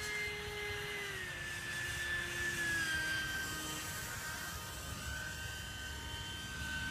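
The ducted fan motor of a DIY foam glider whines steadily close by, a high, smooth drone whose pitch drifts slowly downward and then settles, alone with no voices.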